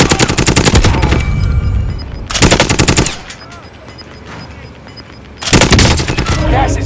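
Bursts of automatic gunfire from a military shooter video game, with rapid loud volleys at the start, middle and end, separated by quieter stretches of distant rumbling combat.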